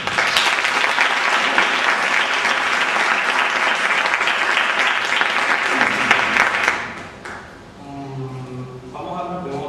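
Loud, dense applause from an audience at a talk about property registrations of buildings in Córdoba, sustained for several seconds before dropping away abruptly into quieter room sound with a voice starting to speak.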